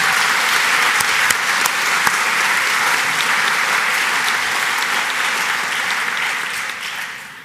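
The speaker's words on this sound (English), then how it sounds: "giving that team a huge big round of applause" A large audience at a college graduation ceremony gives a sustained round of applause, dense and even clapping filling the hall for about seven seconds before tapering off at the end.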